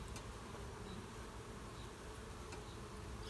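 Honeybees buzzing during a midsummer hive check, a dense continuous hum of many insects close by, steady and unbroken, with no talk.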